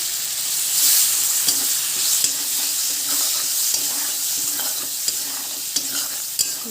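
Green chili and onion sizzle and fry in a pan for a taro stolon and jackfruit seed curry, with a steady hiss of oil broken by the scrape and clack of a spatula stirring at irregular intervals, close up and without talk.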